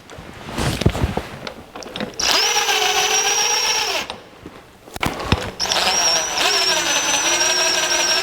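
A power tool whirs in two bursts, tightening bolts on the harmonic balancer of a 1949 Chevrolet gasser engine, loud and close, with clanks of handling before and between the bursts.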